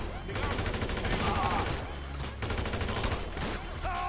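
Bursts of game gunfire in GTA 5 with a real-life CJ mod, repeated rapid volleys of loud close shots across the stretch, with game sound and faint voices underneath.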